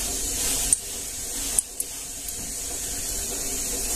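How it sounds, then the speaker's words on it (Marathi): Cumin seeds sizzle in hot oil in a pan, a steady close hiss with a few sharp pops and crackles breaking through, and nobody talking. "तर हे जिरे आपल्याला इथे घालून घ्यायचे। तेल छान असं गरम झालं"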